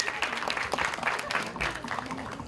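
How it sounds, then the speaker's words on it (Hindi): An audience at the Border 2 teaser launch event gives a round of continuous, dense clapping that stays strong throughout the short stretch, with a voice faintly audible underneath. "एक बार जोरदार ताली होनी चाहिए अनुराग के लिए"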